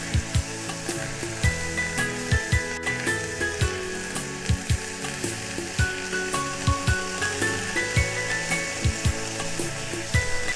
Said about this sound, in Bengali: তেলটা খুব ভালো মতো গরম হয়ে গেলে এখানে আমরা কই মাছগুলো ভেজে নেব